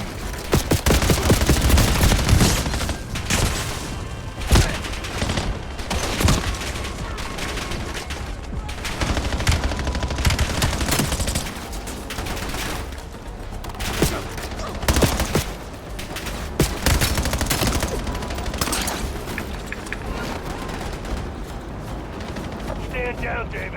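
Rapid automatic gunfire bursts from a weapon in the Black Ops 7 co-op campaign video game, loud and dense, mixed with explosions and game effects, and voices talking over parts of it.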